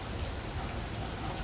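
Steady rain falls from a Miami thunderstorm cell, a dense even hiss with no pauses. Nobody talks over it.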